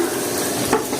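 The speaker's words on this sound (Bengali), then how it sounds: "এই যে শুকনো মরিচটা এবং রসুনটা ভাজা হয়ে গেছে" Dried red chillies and garlic fry in hot oil for a restaurant-style kala bhuna, giving a short, loud, close sizzle with a scrape of stirring in the pan.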